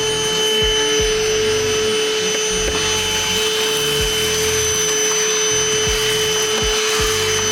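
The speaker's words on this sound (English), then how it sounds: "is we are going to vacuum" A loud, steady vacuum cleaner drone with a high whine runs throughout as it cleans the coils of an air conditioning unit, alongside occasional dull knocks and bumps as the nozzle moves.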